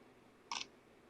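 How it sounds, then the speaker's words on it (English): Shutter of a Canon EOS R5 Mark II camera set to an adjusted volume: a single short, crisp mechanical click, faint and close, alone against quiet room hiss. "this is where you could go in and adjust your shutter volume"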